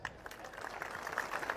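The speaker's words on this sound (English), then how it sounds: "So please clap for yourselves." Faint, scattered clapping from a gathering of devotees at a Gaudiya Math temple during a Navadwipa Dham parikrama, sparse hand claps heard at a distance over a low murmur of voices.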